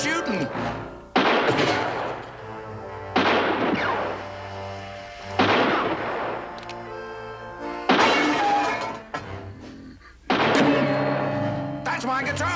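Gunfire in a 1970 adventure film about grizzlies: five loud, sharp blasts spaced roughly two seconds apart, each trailing off in a long ringing decay, with music and voices underneath.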